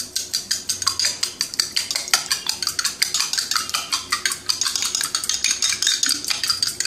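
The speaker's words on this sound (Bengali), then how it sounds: "এই ডিম দুটো নিয়েছি সেটা ফেটিয়ে নেব" Two eggs being beaten with a pinch of salt, a utensil clicking rapidly and steadily against a bowl in a brisk, even rhythm, close and loud with no talk.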